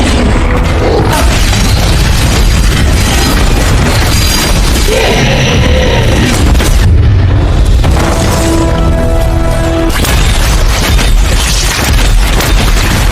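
Film-battle explosions from plasma shots in Pacific Rim fight against a kaiju: loud, continuous booming blasts and crashes layered with dense score and effects, relentless for the whole stretch.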